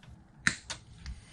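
Cutters snip through the incoming power wires on a K&T 2HL motor: a sharp close click followed by two softer clicks over about a second, with quiet room background.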